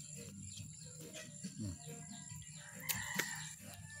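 Chickens eat and make faint, raspy throaty sounds over a steady background of insect chirps. A brief crow-like call rises in the middle.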